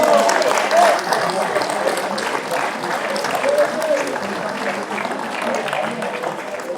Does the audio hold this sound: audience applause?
yes